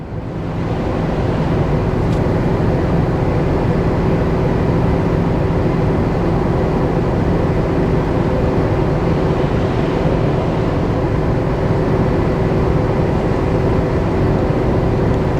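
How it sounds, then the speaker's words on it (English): A truck engine held at wide open throttle, foot all the way down, with Banks Power boost tubes and a turbo inlet upgrade, climbing a steep grade. A loud, steady drone with a constant hum continues throughout, with no talking. "Wide open throttle. I have my foot all the way down."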